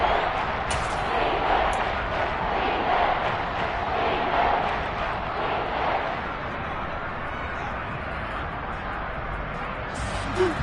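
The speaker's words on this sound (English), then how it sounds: "The crowd getting into it as we come up on a big 3rd down" Stadium crowd noise in an American football video game swells into a steady, dense roar late in the fourth quarter ahead of a big third down, filling the whole stretch and easing slightly near the end.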